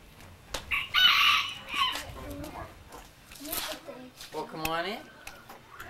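Chickens cluck and a rooster crows inside a henhouse, mixed with people talking nearby; the bird calls come in short bursts at moderate distance.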